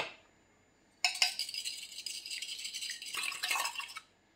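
Egg and sugar whisked vigorously in a bowl, a dense rapid scraping rattle of the whisk against the bowl that starts abruptly and runs steadily for about three seconds before stopping.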